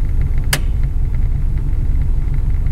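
Heater blower motor of a 1949 Ford Coupe running steadily, a loud constant low whirring hum with a brief click near the start, alone without talk.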